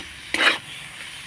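A spoon scrapes and stirs through a pan of fried cauliflower patty filling with chopped coriander leaves, one short sizzling scrape followed by a faint tap, with quiet kitchen background around it.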